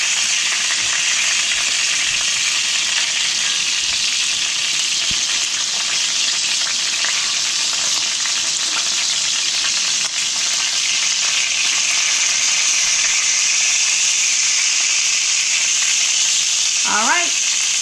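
Pork chops fry in a pan with a constant loud sizzle and hiss throughout, broken by a brief clink near the end; no talking.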